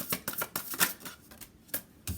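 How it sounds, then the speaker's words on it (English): Tarot cards are shuffled close up in a quiet room, giving a rapid series of crisp riffling and slapping bursts with short pauses between them and no talking. "Y'all just heard me shuffle these cards."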